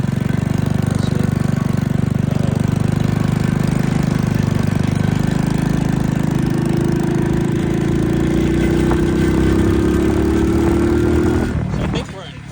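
A mini chopper with a four-speed gearbox runs with a steady, loud, rumbling engine drone that continues for about twelve seconds before cutting off near the end, with a voice talking over it.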